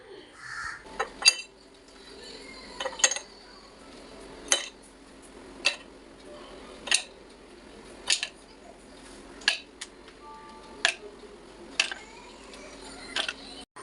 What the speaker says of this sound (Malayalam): ഇനി നമുക്ക് ഈ ഒരു ജാറിലോട്ട് ഓരോ ക്യൂബുകളും എടുത്ത്